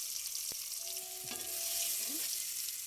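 Spices fry in a pan with tomato pieces, a soft steady sizzle with a few light clinks and scrapes from stirring, fairly quiet and with no voices.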